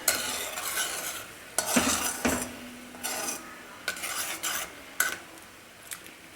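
Homemade food colouring syrup bubbling in a pan as a spoon stirs it, with scraping strokes and clinks against the metal at an irregular pace over a soft sizzle, close by and with no talk.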